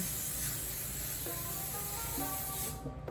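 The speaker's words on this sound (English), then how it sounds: "You definitely wanna make sure you spray the pan." A steady aerosol cooking spray hisses continuously onto a pan from close by, with a few faint tonal beeps sounding in the background before it cuts off near the end.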